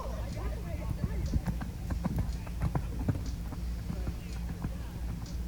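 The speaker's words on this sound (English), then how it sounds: "A cute sort of chunky chestnut horse with a good square jump at the first jump." A chunky chestnut horse in a show jumping round makes a rhythmic clip-clop of hooves on footing, moderately close and steady, with a commentator's voice talking over it.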